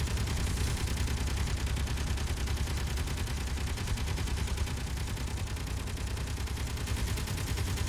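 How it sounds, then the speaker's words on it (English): Continuous gunfire from ships in Space Engineers, a steady rattling barrage at even loudness that drones on without pause, heard alone with no talking. "Okay, we're shooting something."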